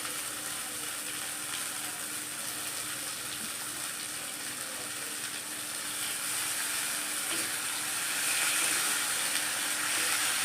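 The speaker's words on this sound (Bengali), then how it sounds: "ভালো করে মাংসটা কষাবো।" Chicken meat being browned in a pan on the stove gives a soft, even sizzle that continues steadily and fairly quietly throughout.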